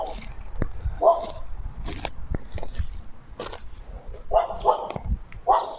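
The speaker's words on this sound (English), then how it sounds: "I have to apologise, guys, for the dog bark" Outdoors at an overgrown graveyard being cleared, a dog barks repeatedly, with a single bark followed by a run of three close barks over steady background noise.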